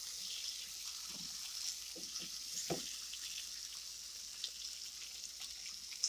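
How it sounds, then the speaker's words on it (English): Plantain slices fry in butter in a skillet, giving a soft steady sizzle punctuated by a few brief low knocks and pops, quiet and close with no talking. "I'm gonna just put them in the skillet."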